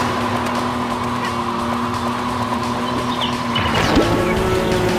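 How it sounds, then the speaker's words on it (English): Birdsong ambience plays in a Mario Kart racing game, with short honking and chirping calls over a steady engine hum and music, one brighter call near the end. "Got some nice bird sound effects, like we're actually in the woods"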